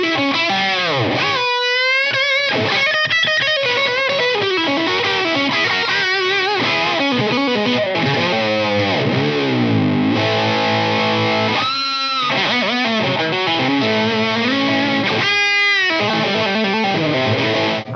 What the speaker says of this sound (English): Let's hear it some more with some dirty tones,